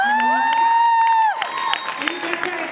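An audience at a concert in London breaks into cheering and applause as a long held musical note fades, the crowd noise spreading broad and busy behind it.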